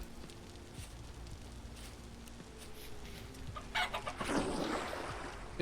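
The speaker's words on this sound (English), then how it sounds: "I can look for chickens later." Chickens clucking in the survival game Vintage Story, soft and somewhat distant at first, then a louder, busier burst of clucks and fluttering near the end against a low steady background.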